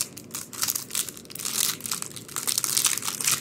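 A pack of 2024 Topps Update trading cards being torn open, with close crinkling and crunching of the foil wrapper in irregular bursts, no talking.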